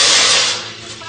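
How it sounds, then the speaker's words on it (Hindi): About two cups of water pour into a bowl for jalebi sugar syrup, a close, loud hissing splash that fades slightly after half a second. "2 कप के करीब हम इसमें पानी डालेंगे"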